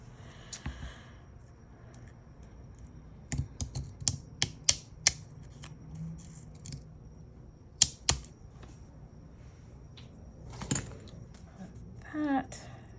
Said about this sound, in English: Let me grab my bigger scissors.